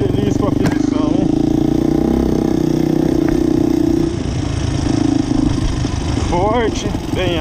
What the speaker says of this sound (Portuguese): Motinha da hora.